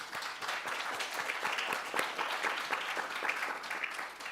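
A church congregation applauds a newcomer during a Sunday service, with steady scattered clapping from many hands filling the room at moderate distance and no voices.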